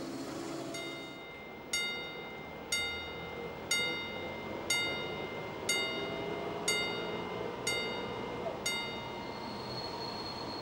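Locomotive C43003 pulling a car shuttle train out of the Tauern tunnel on arrival at Mallnitz, heard as a steady rumbling rail roll with a regular series of sharp metallic clanks, about one per second, rising slightly toward the end.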